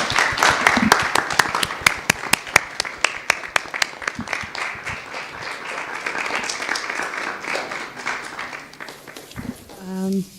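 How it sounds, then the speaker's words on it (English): Audience applause for a panel at a public event, a dense wash of clapping with distinct sharp claps early on, steady for about ten seconds before tapering, with a voice coming in at the very end. "I think we should give them a round of applause."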